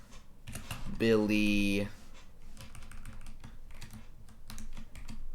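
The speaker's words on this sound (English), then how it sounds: "we can type out a list of stuff just right here" Computer keyboard typing while writing a Java array list, with quick scattered key clicks under a person's talking and a short burst of voiced speech early on.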